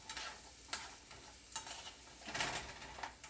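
Shrimp simmering in a pan with broccoli gives a faint sizzle that swells in short waves as it is stirred, quiet and close.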